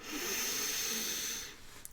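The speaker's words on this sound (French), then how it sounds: "inspirez par le nez" A long, deep inhalation through the nose during a guided sophrology relaxation exercise, a steady airy hiss lasting about a second and a half, close and fairly loud, then fading.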